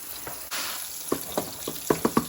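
Pork chops frying in a pan while rice water is readied nearby, giving a steady sizzle broken by a few sharp pops and clinks that cluster toward the end.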